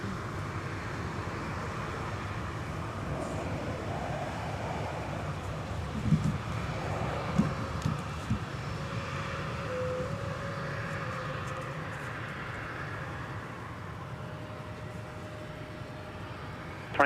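A jet airliner rumbles at Minneapolis–St. Paul Airport, a continuous broad engine roar with wind noise across the microphone, steady and moderately distant, no voices.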